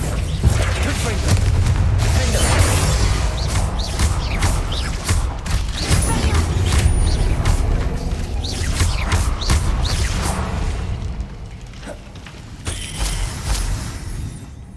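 Confringo fire-blast spells in the Hogwarts Legacy video game, a run of booming blasts and whooshing bursts over steady battle din, loud and close, with speech mixed in.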